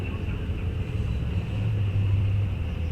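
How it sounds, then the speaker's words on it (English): Drag racing cars, a Chevelle among them, run side by side down the strip at a fall muscle car meet, a steady heavy engine roar from a distance that swells louder near the end. "Side by side down the track they go"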